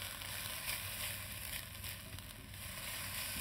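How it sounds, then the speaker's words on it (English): Roughly chopped fresh ginger stirred in a crock pot, a soft continuous sizzle with faint scraping, close but quiet and steady with no talk. "Give it a stir."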